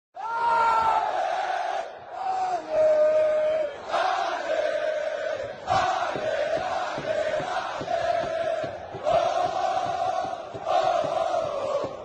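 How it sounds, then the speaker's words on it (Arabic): Football ultras of Al Ahly chanting in a packed stadium during a match, a loud massed roar of voices rising and falling in sustained rhythmic chants with brief dips between phrases, continuous throughout. "وده كان اخر هتاف للشجعان"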